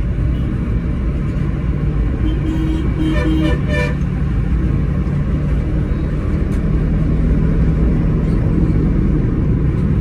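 Dense morning road traffic with cars and a bus rumbling steadily, broken by a short burst of repeated horn toots early on, loud and close throughout.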